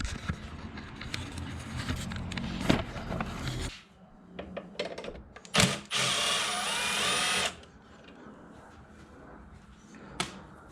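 Power tool whirring on a 10mm bolt at the air box of a 2020 Ford Explorer ST, one sustained close run of a few seconds, then a shorter high-pitched burst amid clanks and handling noise.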